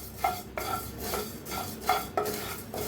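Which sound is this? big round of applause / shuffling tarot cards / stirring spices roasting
stirring spices roasting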